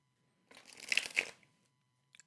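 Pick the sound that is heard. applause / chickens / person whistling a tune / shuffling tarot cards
shuffling tarot cards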